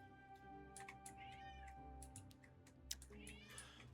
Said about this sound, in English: The cat is meowing again.